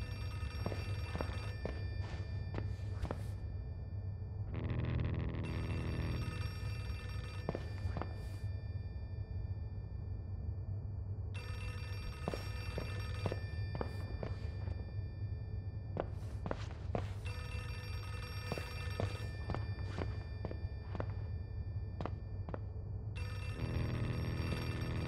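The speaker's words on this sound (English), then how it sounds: "Is that a phone?" A telephone in the video game Outlast 2 rings in repeated bursts of shrill bell trills, several cycles spaced a few seconds apart, alongside footsteps and creaking movement.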